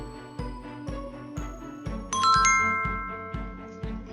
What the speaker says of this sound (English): So when we hear that little chime, the little bells